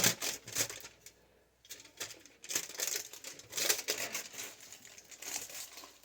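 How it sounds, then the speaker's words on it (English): Hair colouring foil is handled and crinkled close by in repeated bursts of crisp rustling, with a brief pause in between, quiet and without talk. "I take my foil"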